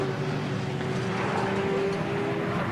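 A drift car slides off the track at the Nürburgring during a drift show, heard as a steady, distant engine roar with broad wind-like rumble, continuous and unbroken throughout.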